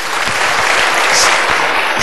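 Dense, steady audience applause fills the hall at a Sinau Bareng gathering with Cak Nun and Kiai Kanjeng at a university, loud and continuous with no voices over it.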